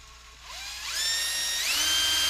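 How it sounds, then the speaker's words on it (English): A power drill bores into a metal clasp between the latches, whining as its pitch climbs and steps up in two stages, growing louder as it bites into the metal, with no one talking. "It was really heating up when I was drilling it."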